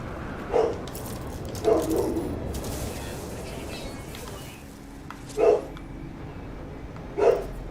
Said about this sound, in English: Sorry, I've got a dog barking in the background at the moment.